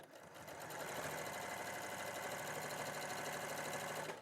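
A sewing machine runs steadily for several seconds top stitching a two-piece slip pocket, a continuous fast whirring rattle at close range with no talk over it.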